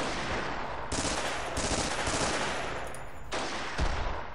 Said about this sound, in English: There's a lonely MG. I might be right in the firing angle there.